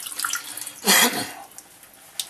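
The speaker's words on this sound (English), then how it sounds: "running water is best" Tap water runs while a squirrel carcass is rinsed, with a brief loud gush of splashing in the middle, framed by faint drips and trickles and a small splash near the end.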